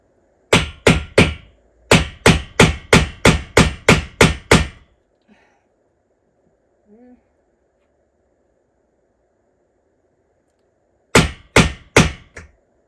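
A hammer taps a small indentation as a guide before drilling a pilot hole, sharp close strikes in two quick runs of about ten blows, a pause with faint noises, then three more hits.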